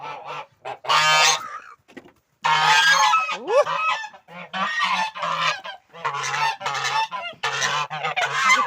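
Loud, close goose honks come in repeated bursts, some harsh and some with a rising squeal, separated by short pauses.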